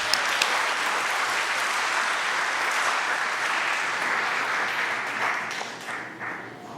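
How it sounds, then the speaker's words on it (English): A commencement crowd gives the graduating class a steady round of applause, dense even clapping holding for several seconds before thinning out toward the end. "Let's give them a round of applause once again."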